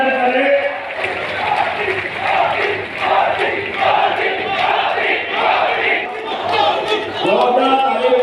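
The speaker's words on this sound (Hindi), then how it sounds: "जोरदार ताली बजा करके आप उनका वंदन करें" A large crowd at an outdoor political rally in Sagar, India, claps and cheers in rolling waves. It is loud and close, with a speaker's amplified voice talking over the noise.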